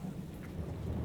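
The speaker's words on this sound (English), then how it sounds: "Nuts, it's raining. Alright, thundering actually." Thunderstorm in the video game Parkitect: a steady low rumble of thunder with rain hiss, quiet and continuous, no talking.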